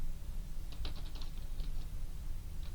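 Quick light keystrokes on a computer keyboard as a project name is typed, a short burst of soft clicks followed by a few scattered taps, faint over a low room hum.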